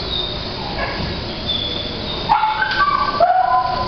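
A dog named Happy gives a few short, high yips and barks in the second half, over a steady background hum, with no talk.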